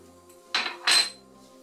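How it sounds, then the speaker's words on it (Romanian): A utensil works a mixture of meat, milk and parsley in a bowl, making two quick, close clinks and scrapes in a row, with quiet in between and after. "Și amestecăm bine, bine, totul"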